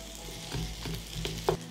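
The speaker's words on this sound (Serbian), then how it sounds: "dodajem beli luk i pržit ću dok luk ne omekša" Onion sizzles and crackles in hot butter and oil, a soft steady frying hiss with a few stirring scrapes and clinks, close up and with no talking.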